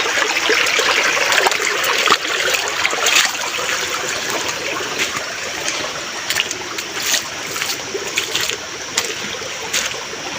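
Water rushes and babbles steadily like a flowing river, a constant hiss with occasional splashes, no voices.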